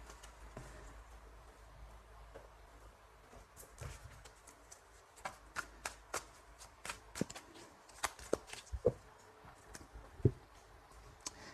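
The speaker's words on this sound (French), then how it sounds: "je vais faire un petit tirage prévisionnel" Tarot cards shuffled for a reading, giving soft, close papery riffles and a series of light, irregular taps and flicks, quiet throughout with no talk.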